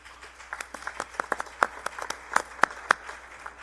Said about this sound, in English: Thank you, representatives from the Booster Club, for leading that clap.